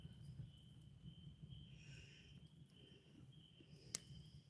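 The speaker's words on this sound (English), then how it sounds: "Hear the crickets in the background." Crickets chirp faintly in a steady background drone on a quiet evening outdoors by a fire, with a soft click near the end and no talking.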